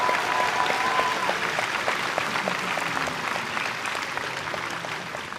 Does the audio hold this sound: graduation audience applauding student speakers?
yes